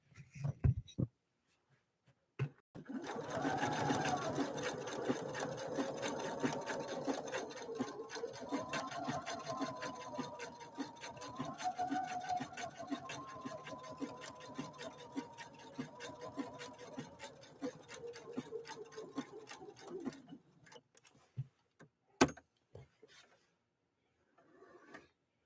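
A Husqvarna Viking Opal 650 sewing machine stitches a mountain pattern with needle movement only, a steady close mechanical chatter that runs for about seventeen seconds before stopping, followed by a few faint clicks.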